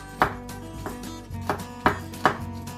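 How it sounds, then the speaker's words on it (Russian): A knife chops garlic cloves on a board in five or six separate, uneven strokes, each a sharp close thud, with quiet pauses between and no talk. "После лука мы размельчим несколько язычков чеснока."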